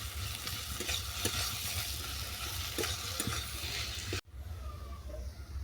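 Gourd peel frying with dried chilli powder in a pan, a steady low sizzle with occasional stirring scrapes. It cuts off abruptly and then continues more faintly.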